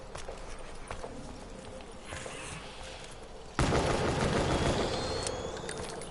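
Rapid gunfire from shooting a grouped horde of zombies in the Call of Duty zombies map Shadows of Evil, a dense crackling barrage that grows louder and fuller partway through with game noise underneath.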